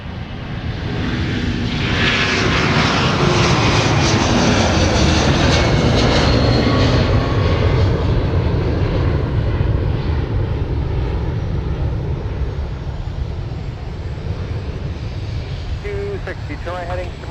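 A jet airliner takes off from runway 30 left at Minneapolis–Saint Paul airport at night, its loud roaring engine noise swelling and holding steady for the whole stretch, with radio voices faintly audible underneath.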